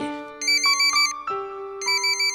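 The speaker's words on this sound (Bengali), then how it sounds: "আপনার ফোন বাজছে, তুলুন তো একবার" A phone's electronic ringtone plays a repeating melodic tune, loud and close, with no voices.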